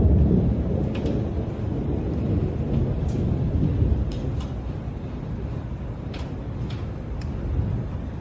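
A rainy thunderstorm fills the air with a continuous deep rolling rumble of thunder and a steady wash of rain, loud and sustained with no voices.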